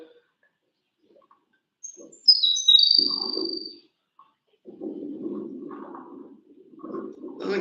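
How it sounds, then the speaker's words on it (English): A bird sings in an alfalfa field: a high thin whistled note, then several lower warbling phrases with short gaps between them. The song is fairly close and clear against a quiet background. "Doesn't get any better than to see the birds in their habitat singing"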